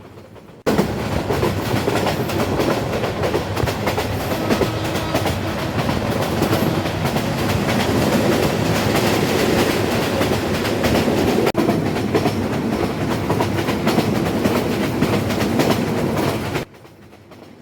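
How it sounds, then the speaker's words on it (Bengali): The Mohanagar Godhuli Express, running from Chittagong to Dhaka, rumbles loudly at speed along the tracks with a continuous roar and rhythmic wheel clatter, steady throughout before cutting off abruptly near the end. "আমাদের ট্রেন গতির ঝড় তুলে ফেলেছে ট্র্যাকের উপরে"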